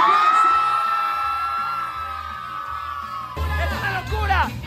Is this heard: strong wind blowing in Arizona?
no